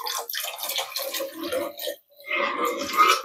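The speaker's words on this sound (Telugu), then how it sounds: "అదో కొంచెం వాటర్ వేస్తున్నా." Water is poured in two near, splashing streams into tamarind broth in a cooking pan, with a brief pause between the pours.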